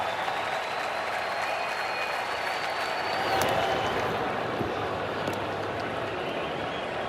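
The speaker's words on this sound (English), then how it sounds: "Crowd looking for a strikeout." A big stadium crowd at a Phillies vs. Cardinals Wild Card playoff game claps and cheers for a strikeout with a 1-2 count in the sixth inning. The dense, sustained roar swells briefly midway.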